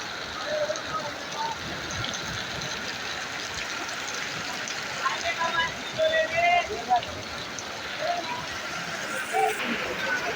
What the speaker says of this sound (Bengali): খুব বৃষ্টি হচ্ছে বগুড়াতে